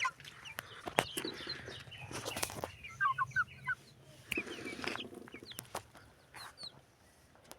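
A young rooster and chickens cluck in a farmyard, soft scattered clucks and a short run of higher chirping calls, with occasional knocks and rustling nearby.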